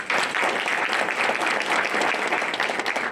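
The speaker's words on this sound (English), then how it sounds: "I think we can give them a big round of applause" An audience applauds at the launch of a connected-car vehicle Wi-Fi service, a steady dense burst of clapping filling the whole stretch.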